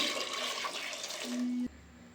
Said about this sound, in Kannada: ಇನ್ನೊಂದು ಸ್ವಲ್ಪ ನೀರು ಹಾಕ್ತಾಯಿದ್ದೀನಿ.